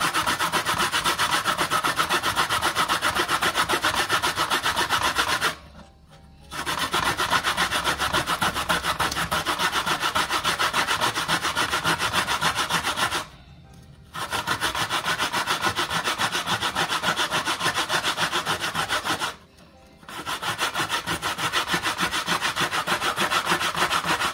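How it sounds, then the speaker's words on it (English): Fresh coconut is grated by hand on a grater for Jamaican toto, giving a steady, loud scraping rasp of flesh against metal that continues unbroken except for three short pauses. "I'm gonna use my grater and grate my coconut."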